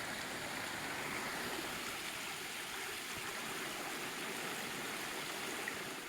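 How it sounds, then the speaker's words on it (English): A stream rushes steadily beside the Rock Castle Gorge Trail, where two streams seem to meet, giving a constant close wash of flowing water with no voices. "This stream either splits on both sides or it's actually 2 different streams."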